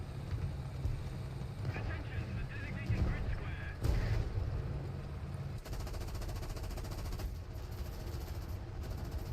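In a War Thunder battle, gunfire hammers at an aircraft, with bursts of rapid machine-gun rattle and heavier cannon thumps over a low engine drone, loud and close, with a voice shouting now and then.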